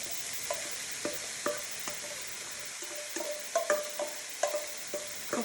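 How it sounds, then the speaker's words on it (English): Bell peppers fry in a pan with onions and garlic, a steady sizzle under repeated clicks and scrapes of a utensil stirring the pan. "And we are going to dump the peppers in."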